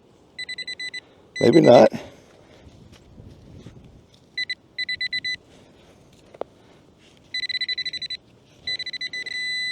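Beeping tones from a Nokta Legend metal detector signalling a can during a park hunt, in repeated short bursts of steady pulses, with a loud rustle near the start and brief speech.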